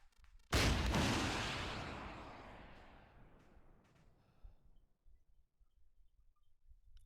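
A rocket launcher fires in the military video game Arma 3, one sudden loud blast that decays over a few seconds into a fading rumble and faint scattered noise.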